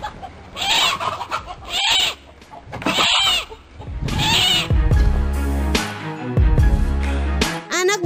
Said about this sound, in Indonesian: Hal itu sepertinya membuat kawanan ayam marah dan anak alap-alap itu tak berdaya diserang oleh kawanan ayam.